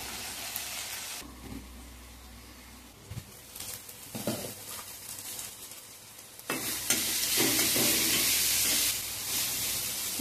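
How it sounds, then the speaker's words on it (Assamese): Dhekia fiddlehead fern greens fry in a pan with salt and turmeric, a steady sizzle broken by stirring scrapes before the hiss swells louder and fuller toward the end, with no voices. "ঢেকীয়াখিনি ভাজি হৈ গ'ল।"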